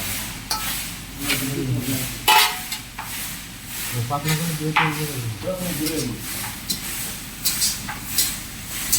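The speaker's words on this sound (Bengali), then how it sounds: "এই যে এখানে ভাজি করা হচ্ছে" Oil sizzles steadily as batter cakes (pitha) fry, with clinks and scraping of a utensil and a voice talking intermittently over the cooking.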